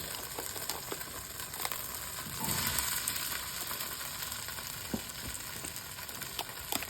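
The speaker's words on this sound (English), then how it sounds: "Next we're going to go in with the mushrooms." Mushrooms hitting a hot frying pan, with a steady close sizzle that swells as they go in, plus light stirring scrapes and small pops.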